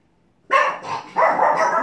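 A dog barks indoors in two or three quick, loud yapping bursts close by, sudden after near silence, with no talking.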